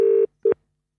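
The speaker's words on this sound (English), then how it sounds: "just going to go around calling random numbers all the time to hopefully hit Ian Thorpe's" A telephone emits two clean tones, one long and one short, with silence after, heard close and without any voices.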